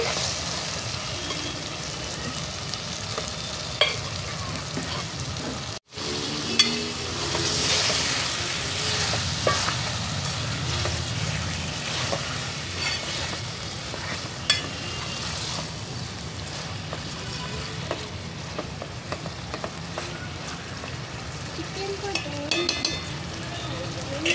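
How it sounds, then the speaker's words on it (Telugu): Cleaned chicken pieces fry in a pan with spices for a chicken gravy curry, giving a steady close sizzle with stirring scrapes and brief clatters throughout. "పచ్చివాసన పోయే వరకు కొద్దిసేపు ఫ్రై చేసుకొని మనం శుభ్రం చేసిన చికెన్ అయితే వేసేసుకుందామండి."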